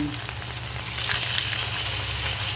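Pork and chicken frying in hot oil in a wok, giving a loud, steady, close sizzle that carries on without a break and with no one speaking.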